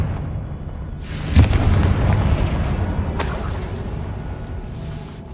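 A Confringo spell bursts with a sharp booming explosion in Hogwarts Legacy, followed by a rumbling decay, and a second lighter crackling blast a couple of seconds later; no voices.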